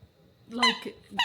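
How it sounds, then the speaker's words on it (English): A dog squeezes a squeaky toy indoors, giving two short, bright squeaks about half a second apart over a quiet room. "Excuse my dog squeaking his squeaker,"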